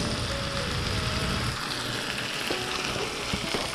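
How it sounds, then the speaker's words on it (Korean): Kimchi fries in rendered pork belly fat, a close, dense sizzle and crackle that runs continuously without talk. "이 삼겹살 기름에 볶은 김치는 안 맛있을 수가 없어."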